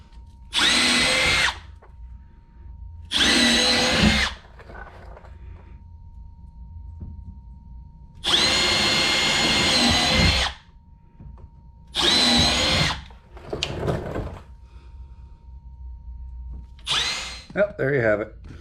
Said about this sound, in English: Well, there you have it. All the holes are drilled.